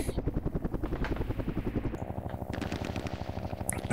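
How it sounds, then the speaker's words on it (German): A helicopter beats steadily in the Vietnam-era strategy game Campaign Series: Vietnam, its close rotor thumps pulsing rapidly and evenly, with the chop tightening partway through. "Wir schauen jetzt zuerst mal, dass wir unsere Hubschrauber wieder auf den Weg bringen."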